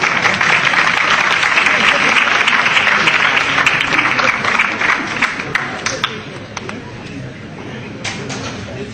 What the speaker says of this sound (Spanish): Un aplauso todos los españoles.